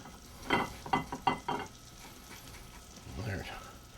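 Breaded venison steaks frying in a pan, a steady sizzle punctuated by a burst of scraping, clattering stirs, with a voice speaking briefly near the end.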